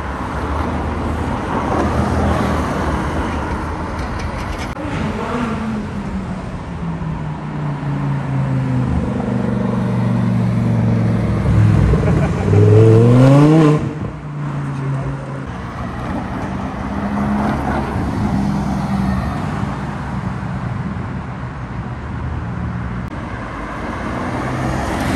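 A Porsche drives along Park Lane in London during the Gumball 3000 arrivals. Steady traffic rumble builds to a loud, close engine pass-by with a rising then falling whoosh before settling back to a distant roadway drone.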